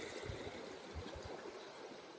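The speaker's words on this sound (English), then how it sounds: "see how powerful that water is?" A powerful stream rushes steadily near a waterfall at a free BLM campsite in Idaho, a continuous broadband roar of churning water with low thumping surges underneath and no voices.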